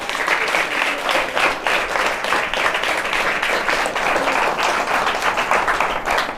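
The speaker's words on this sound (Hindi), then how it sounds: "एक बार जोरदार सबके लिए ताली बजाइए।" A church congregation at a Hindi-language Christian service breaks into loud, sustained applause, dense steady clapping filling the room throughout with no pauses.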